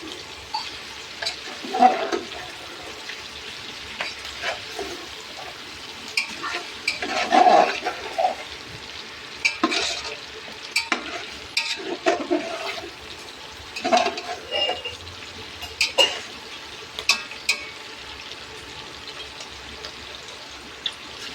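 Large pieces of meat are turned and mixed by hand in a cooking pot, giving repeated wet, squelching bursts at an irregular pace, fairly close and without talk.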